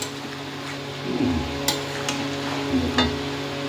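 Mutton stirred and sautéed in a pan with steady frying sizzle throughout, broken by a few scraping strokes of the spoon against the pan, close and moderately loud.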